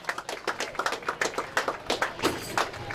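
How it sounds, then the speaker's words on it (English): Outdoor crowd at a small-town St Patrick's Day parade in Kilcormac clapping for a youth soccer team, a steady patter of many hands at moderate distance with no talking over it. "So that's for the nice round of applause here for the Frankfurt under 910 soccer teams."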